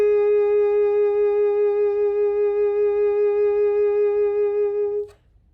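One long sustained reed-instrument note, held steady for about five seconds with a regular wavering vibrato made by gently working the jaw on the reed, clear and close, then stopping cleanly.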